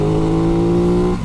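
A 2021 Aprilia RS660 motorcycle engine holds a loud, steady, close droning rev while being ridden, then eases off briefly at the end.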